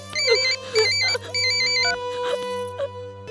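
A phone ringtone plays a repeating electronic melody in short bursts, loud and close, with a sustained background hum underneath.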